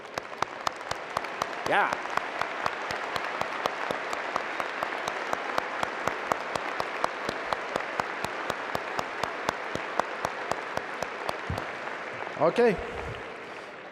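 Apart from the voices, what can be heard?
graduation audience applauding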